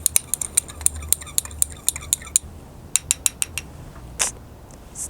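Sodium sulfate being stirred into water in a glass with a utensil, producing a rapid series of bright, sharp clinks and taps at an uneven quick rhythm, pausing briefly and then resuming, close by with no voices.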